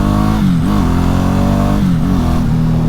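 A Ducati Hypermotard 1100 Evo from 2010 pulls hard through gears four to six, its loud engine note rising then dipping at each quick shift, close and continuous with no talk.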